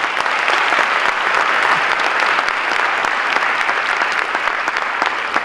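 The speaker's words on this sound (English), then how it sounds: "Can we give them one more round of applause?" An audience at a school district event applauds a school chamber orchestra, a dense, steady wash of many hands clapping that stays loud and even throughout, with no speech over it.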